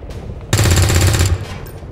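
A short burst of rapid automatic gunfire from a video game erupts loud and close, lasting under a second amid game ambience.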